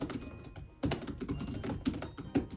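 Fingers type on the keyboard of an old Windows Vista laptop, making quick, irregular clicky keystrokes close up, with a short pause near the start and no speech.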